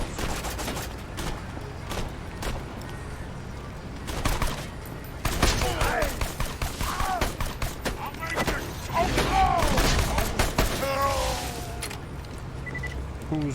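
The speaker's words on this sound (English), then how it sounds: "I can shoot them from up here and then keep this sniper. I'm gonna start shooting." Sniper rifle fire in an Xbox video game, a series of sharp shots scattered across the stretch with other battle noise, while players talk over it.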